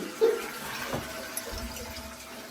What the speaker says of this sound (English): Do you flush the toilet and then run out.